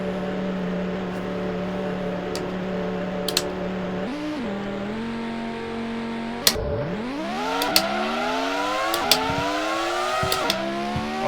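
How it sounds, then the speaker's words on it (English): Grand Prix 2 racing cars launching from the grid at the French circuit, a steady idle drone giving way to engines rising sharply in pitch as wheels spin off the line, several cars revving together, loud and close. "Lots of wheel spin off the line."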